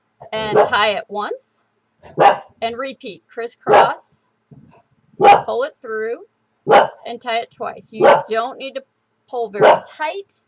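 Dogs bark indoors at home after a doorbell rings, with short bursts scattered between and under a person talking close by.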